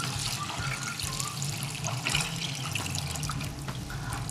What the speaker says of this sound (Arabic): رح نزيد مي للرز